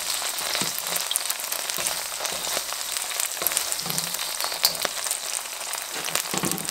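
Chicken pieces sizzle and fry in a pan for a stir fry as they lightly brown, a steady, close crackling hiss with scattered pops and no talking.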